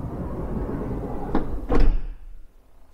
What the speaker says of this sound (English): you hear a little electronic sound that it pulls the door in